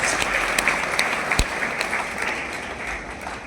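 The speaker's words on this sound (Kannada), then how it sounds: "ಅಂತ ಮಹನೀಯರಿಗೆ ನಿಜವಾಗ್ಲೂ ಒಂದು ಜೋರಾದ ಚಪ್ಪಾಳೆ ಬಂದಿಗೆ ನಾವು ಅಭಿನಂದನೆ ಸಲ್ಲಿಸಬೇಕು" Loud, sustained applause from an audience at a special workshop for SSLC students, a dense wash of clapping hands running steadily throughout with no voices over it.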